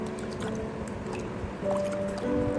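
Shampoo being stirred into a bowl of soaking water for an at-home manicure, giving soft wet swishing and dripping sounds, close and steady, with no talking.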